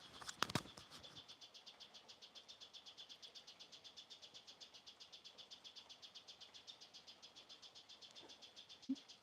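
A little blackbird sings in the rain, its rapid, evenly repeating chirps running steadily throughout beneath a soft patter of rainfall, with a brief louder rustle near the start.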